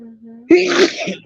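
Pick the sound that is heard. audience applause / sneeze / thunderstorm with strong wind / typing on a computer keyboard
sneeze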